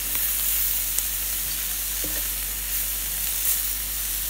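Champignon mushrooms frying in a pan, a steady close sizzle and hiss with a few faint clicks of stirring, no one talking.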